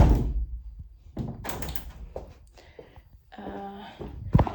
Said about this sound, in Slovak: Zavriem balkónové dvere.